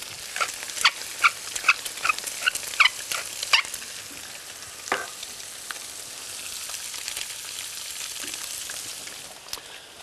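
Perch fillets sizzle and fry in a pan, seasoned only with salt and white pepper. The crackling is steady and close, with sharp pops and spatters in the first few seconds, and there is no talking.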